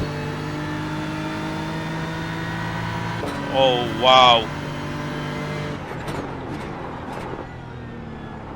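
Race car engines drone steadily in an iRacing IMSA sim race, a faster car approaching with a brief rising whine, while a commentator talks briefly.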